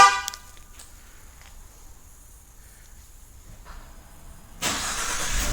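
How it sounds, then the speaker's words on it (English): 2015-2016 Ford F150 starting by plug-and-play remote starter, heard from outside: a short chirp at the start, a long quiet wait, then the engine cranks and settles into a steady idle. "I'm going to go ahead and activate the remote starter."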